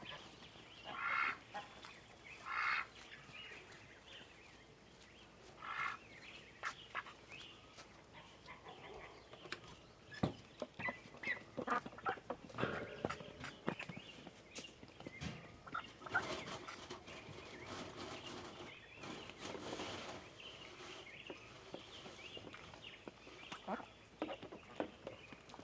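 Turkeys on a homestead gobble and call in repeated bursts at morning feeding time, a busy flock heard close and fairly loud with scuffling and rustling between calls.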